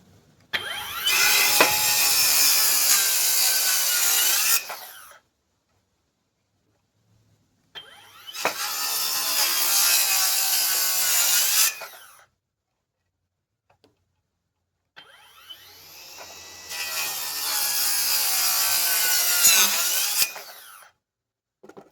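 Three separate cuts from a Worx cordless circular saw slicing through wood, each a loud, sustained whining buzz of about four to five seconds, split by short silent pauses.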